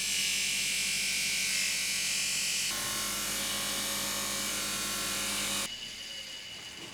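A steady, continuous high-pitched mechanical whir with rubbing grit as a polishing wheel buffs a metal shaft, dropping in tone near the end.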